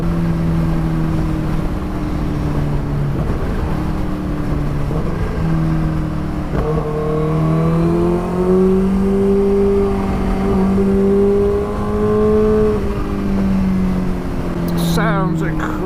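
Kawasaki Ninja H2 motorcycle engine rumbles and revs up and down in long swells, loud and close, with a voice talking over it near the end.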